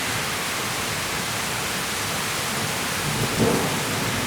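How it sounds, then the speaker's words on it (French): Heavy rain pours steadily as a dense hiss during a thunderstorm in the Basque Country, southwest France, and a low rumble of thunder swells briefly near the end. "Les orages tombent au Pays Basque, dans le sud-ouest, ce soir, le 2 septembre."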